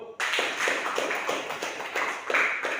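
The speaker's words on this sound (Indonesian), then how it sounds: "Kita beri aplaus dulu" Classroom applause after a student group presentation, a steady rhythmic round of claps from several pupils, moderately quiet and fairly close, with no talking over it.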